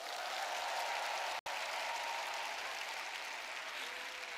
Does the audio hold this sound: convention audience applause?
yes